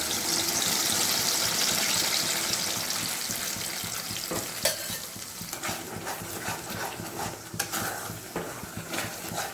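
A spice mixture is dropped into hot oil in a wok and bursts into a loud, broad sizzle that slowly settles into softer frying, with spatula scrapes and clinks following, heard close with no talk.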